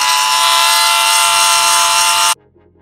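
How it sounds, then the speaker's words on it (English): Dremel rotary tool polishing the inside of a metal bushing boss on a Porsche 928 upper control arm, a loud continuous high-pitched grinding whine held for over two seconds before cutting off abruptly to near silence. "I'm going to use my Dremel to polish the sort of inside of this boss"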